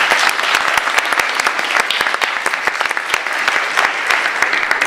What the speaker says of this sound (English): Let's give another round of applause to both of our debaters.